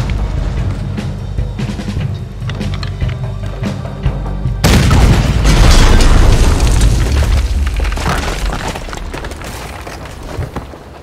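Cannon fire in the Red Dead Redemption 2 Guarma mission, a heavy boom erupting midway through a continuous din of distant gunfire and blasts, staying loud and rumbling through the end.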